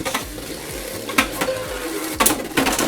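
Divine Belial spinning tops clash in a Beyblade battle inside a stadium, a continuous metallic scraping whir broken by a few sharp hits, fairly close and moderately loud without talk.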